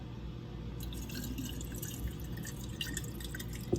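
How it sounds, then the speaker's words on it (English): Water poured into the rear tank of a coffee machine, heard as a faint, steady trickle with light drips and splashes, no voices. "we're gonna pour it in the back of the tank"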